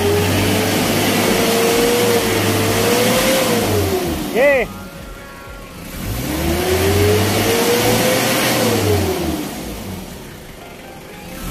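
A 2011-model car engine is revved hard twice. Each long rising and falling swell holds for several seconds, and a voice briefly speaks in the dip between them.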